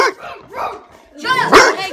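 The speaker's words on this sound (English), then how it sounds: "the dog gets so mad when he's in the kennel" A dog shut in its kennel barks angrily, sharp loud yaps in quick bursts with whimpering tones, up close, while a person talks over it.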